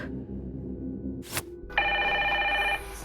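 An electronic video-game telephone ring trills steadily for about a second after a brief click, loud against a low background hum.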